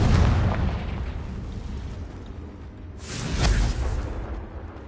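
Confringo spell explosion in Hogwarts Legacy, a booming blast with a rumbling low tail that fades, followed by a second burst about three seconds in that swells and dies away.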